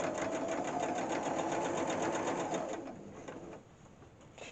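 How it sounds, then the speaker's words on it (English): A sewing machine stitching a flat felled seam, a close, steady rapid whir of the needle that slows and stops partway through, leaving a quiet room. "put it back under your machine, grab your needle, make sure you've got it right, and sew on the very edge."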